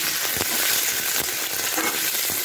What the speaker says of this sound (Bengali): এবার সবার প্রথমে আমি ওলকপিগুলোকে এই তেলের মধ্যে দিয়ে দিচ্ছি।